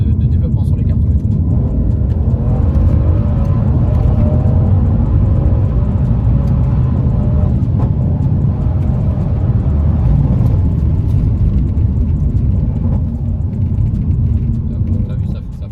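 A Mercedes C63s AMG drives hard and brakes heavily, with a loud, steady engine and road rumble filling the cabin throughout. Voices talk over the noise.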